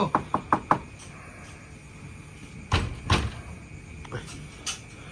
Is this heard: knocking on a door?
yes